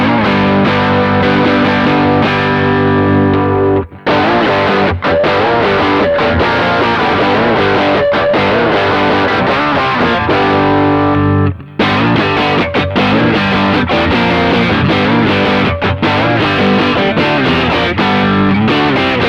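A Baum Vega Revolt electric guitar played through an Iron Horse distortion pedal, loud, saturated chords and riffs ringing continuously with two short stops between phrases.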